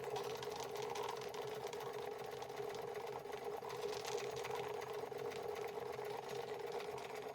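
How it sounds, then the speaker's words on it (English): A Märklin 16051 twin-cylinder model steam engine pumping water under load, giving a rapid, even mechanical chugging and whirring, steady and fairly faint, with no talk. "You can hear the engine take the load."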